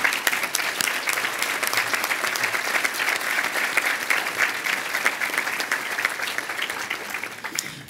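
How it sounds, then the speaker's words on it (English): An audience at the ATHENA Award 2015 event gives sustained applause. Dense, even clapping continues at a steady level throughout, with no voices over it. "give you a round of applause for your efforts in making tonight possible"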